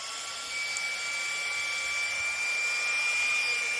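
A YS-G9 mini handheld fan running at maximum speed gives a steady, close whirring hum with a thin high whine, holding constant throughout with no talk.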